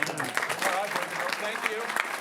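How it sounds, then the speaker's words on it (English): A brief round of clapping from the audience at a Redlands city council meeting, moderate and scattered, with people talking over it. "How about a big round of applause?"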